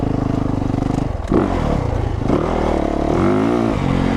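Yamaha YZ450 or Honda CRF dirt bike engine, loud and close, idling with a rapid throb before the throttle blips into rising and falling revs.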